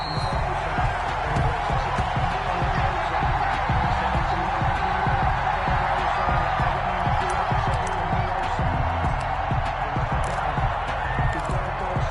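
Steady stadium crowd roar from an American football video game, Cincinnati Bengals at Denver Broncos, a dense continuous wash of cheering noise at even loudness throughout, with no clear voices standing out.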